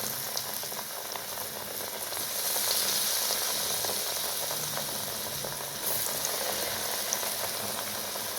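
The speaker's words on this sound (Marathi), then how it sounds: "कढईमध्ये जितकं बसल 5-6 असे सोडून घ्यायचं आपल्याला भजी" Ridge gourd fritters dipped in gram flour batter sizzle in hot oil in a kadhai over a low flame. The frying hiss is steady and dense and stays close, with no talk.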